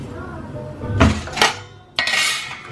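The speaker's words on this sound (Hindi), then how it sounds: "स्टील का बर्तन रहता है इधर, स्टील का एक प्रॉपर जगह है" Steel utensils and brass pots clatter as they are arranged in an Indian kitchen, with two separate bursts of clinking metal against metal and a shelf, fairly close and moderately loud.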